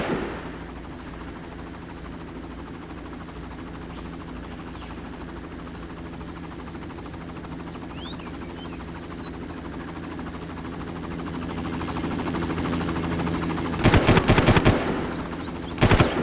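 In the shooter game Far Cry, an enemy helicopter gunner fires steady machine-gun bursts under a constant droning helicopter rotor hum. The shooting grows louder toward the end in rapid, heavy volleys.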